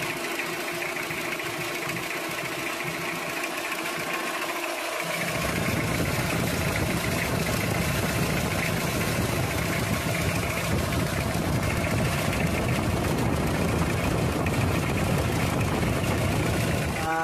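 Toyota 2C diesel engine idling roughly with a misfire, a steady close knocking rumble that grows louder and fuller after the first few seconds and runs on without talk.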